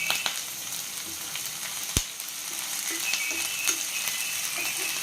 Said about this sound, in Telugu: ఉల్లిపాయలు వేగినాయండి ఇప్పుడు పచ్చిమిర్చికాయలు వేసుకుందాం